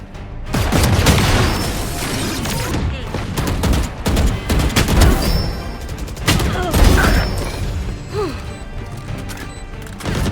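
Rapid bursts of gunfire in Valorant, loud dense volleys of sharp shots and crashes firing in quick clusters throughout, with mechanical clatter in between and occasional voices.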